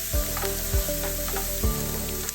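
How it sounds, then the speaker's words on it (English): Shrimp sizzle as they finish cooking in pans, with a steady frying hiss and a few louder bursts of spatter or stirring scattered through. "Continue cooking them in the pans until they are all pink."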